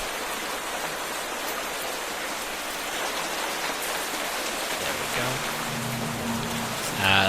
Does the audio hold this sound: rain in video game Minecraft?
yes